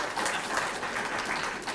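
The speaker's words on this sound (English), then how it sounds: "That's applause right there." Audience applause at a mayor's public announcement of a corporate gift to an arts and cultural district, a dense continuous patter of clapping throughout, fairly distant and moderate in level.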